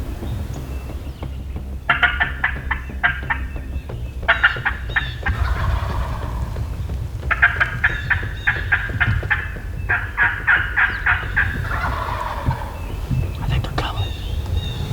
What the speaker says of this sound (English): I got them turkeys fired up.